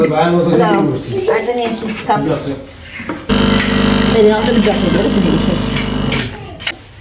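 A new coffee machine starts up with a steady loud mechanical whirring hum that lasts several seconds, while people talk in Bengali at a Bangladeshi pitha festival gathering in Italy.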